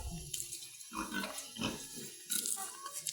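A pig grunts in a few rough, low bursts close by in a pigsty, with farmyard noise around it and no talking.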